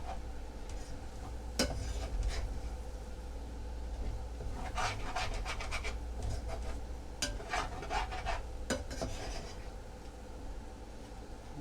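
A spoon scrapes and rubs the bottom of a pot of cheeseburger bacon soup in repeated rasping strokes, some in quick clusters, over a low simmering background with no talking.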